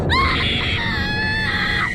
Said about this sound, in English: suddenly they hear their son screaming